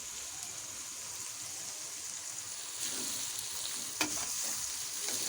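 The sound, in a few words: carrots and chopped bell pepper frying in a pan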